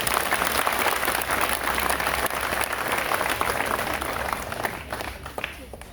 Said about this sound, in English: I want us to give ourselves a round of applause again.